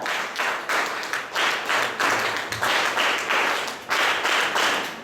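An audience clapping at a closing ceremony of a de-addiction camp, a sustained dense applause of many hands with slight surges in intensity, heard from within the hall.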